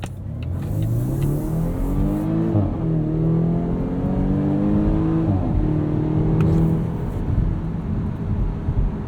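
A 2019 Volvo S60 T6 R-Design's turbocharged and supercharged engine pulls hard in dynamic mode, revving up steadily through several rising sweeps with brief dips at gear changes, a steady loud drone heard from inside the cabin.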